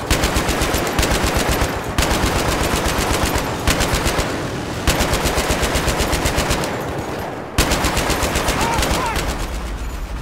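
Rapid automatic gunfire in the Battlefield 3 video game, loud sustained bursts in several long strings separated by brief pauses, close and dense.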